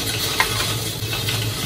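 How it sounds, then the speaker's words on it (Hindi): Pieces of taro frying in a pan, a soft steady sizzle with a brief scrape of stirring partway through. "अरवियाँ हमारी जो है वो अच्छे से फ्राई हो गई हैं"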